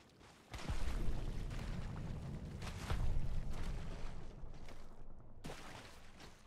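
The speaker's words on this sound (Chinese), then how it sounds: "哦，要枪声嘞， 有声音。" Video-game gunfire crackles in sharp, loud bursts at the start and again about halfway through, over a continuous rumbling battle din that fades slightly toward the end.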